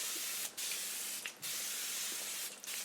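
Three quick bursts of fine mist spraying from a bottle, close and soft, evenly spaced with brief pauses between.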